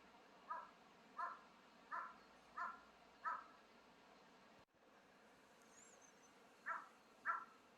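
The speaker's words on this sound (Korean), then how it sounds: "효과음 까마귀" A crow caws in a series of evenly spaced calls, five in a row, then a pause and two more, faint over a hissy background near the hillside hermitages of Haeinsa temple.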